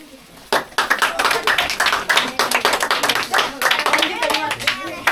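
Students applaud a winner of the children's day games, bursting into a lively, ragged round of close handclaps that keeps going at an even level after a quiet start, with a few voices underneath.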